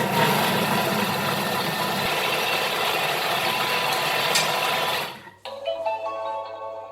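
A Thermomix food processor mixes cake batter for candied-fruit cake at speed 5, giving a loud, steady motor whir and churning for about five seconds before it stops abruptly, leaving quieter clinking and handling sounds.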